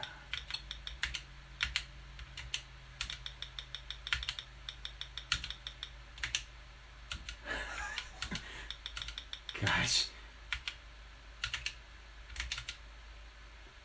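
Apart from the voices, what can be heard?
typing on an Apple IIe keyboard while playing Pac-Man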